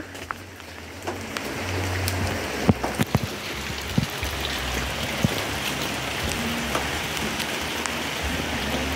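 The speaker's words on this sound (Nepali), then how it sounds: "आज त धेरै दिन वर्षाको बादमा चाहिँ पानी परेको छ" Steady rain patters down continuously, with scattered louder drips tapping nearby over the constant hiss.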